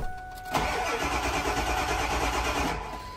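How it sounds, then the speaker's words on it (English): A truck engine cranks while its engine tune is set to no-start mode, with a sustained close, loud, rapidly pulsing starter churn that never catches and then cuts off. "We'll crank it again."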